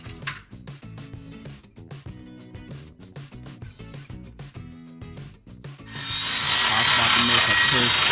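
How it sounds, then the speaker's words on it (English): A handsaw cutting plywood in half on a patio project, rasping in a steady back-and-forth rhythm of close strokes before giving way to a louder, rougher, continuous noise at the end. "I'm gonna be using this handsaw to cut these plywood in half."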